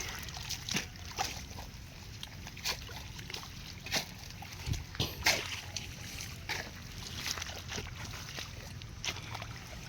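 Water splashing and trickling while bitter gourd plants are watered through the middle of the rows on a hot farm, soft intermittent splashes and sloshes of varying strength over a quiet background.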